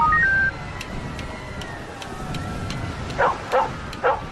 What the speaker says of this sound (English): Cane tapping, seeing eye dog.